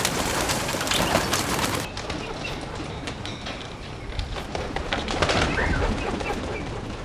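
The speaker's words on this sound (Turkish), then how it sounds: "Evet, kuşlarımızı startına veriyoruz." Racing pigeons released at the start of a race, with a dense, steady wash of wing flapping and cooing from many birds close by. The sound holds fairly loud throughout, with no talk.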